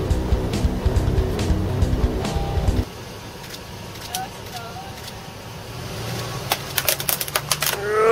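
A truck's engine drones loudly for a few seconds, then drops away, leaving scattered sharp plastic clicks and cracks as the truck rolls over a computer keyboard.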